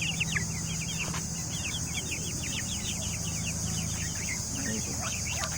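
Young chickens cheep and cluck in a continuous, busy chorus nearby, hungry chicks calling over a steady low background hum.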